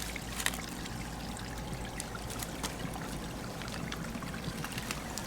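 Water from an RV holding tank flushing and draining at a home dump setup, a steady faint trickle and pour with small splashes, no talking.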